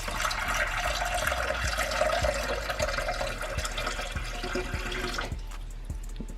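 Water poured into the enclosure of a roughly six-foot carpet python, a steady splashing pour that runs for about five seconds, then stops abruptly, leaving a few faint drips and small knocks.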